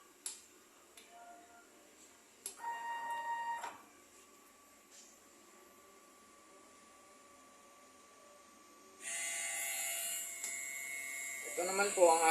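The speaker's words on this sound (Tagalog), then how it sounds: "Ito po ang aking printer." A DTF printer's mechanical whir and ticking sounds, with a brief burst of motor noise early and a louder hissing rush near the end, with no talking.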